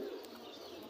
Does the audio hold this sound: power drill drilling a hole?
no